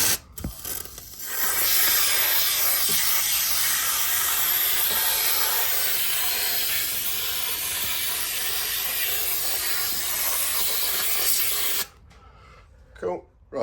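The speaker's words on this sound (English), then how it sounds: "I'm just going to spray foam these in place." A long, steady hiss of spray foam from a can, fixing wooden supports for boat companionway steps, runs for about twelve seconds, then cuts off, followed by a few small clicks.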